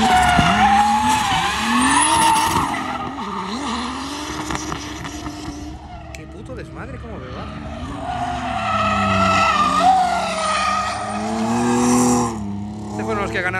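A car drifts around a race circuit, tires skidding and squealing loudly over the rising and falling whine of the engine almost without a break, while people talk in the background.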